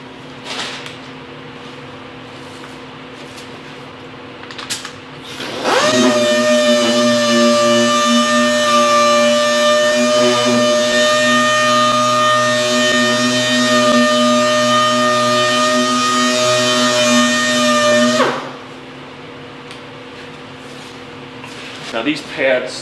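A dual-action sander blocks primer on a 2005 Ford F350 with an interface pad, running as a steady, loud whirring drone for about twelve seconds before spinning down, with quieter shop noise on either side.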